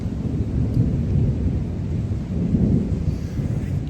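Thunder from a lightning strike in open country rolls as a continuous low rumble, loud and sustained throughout with no clear break, and no voices.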